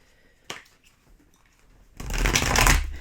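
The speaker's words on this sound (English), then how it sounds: "Another shuffle here." A quick snap of tarot cards, a short pause, then a loud, close riffle of the tarot deck being shuffled for about a second.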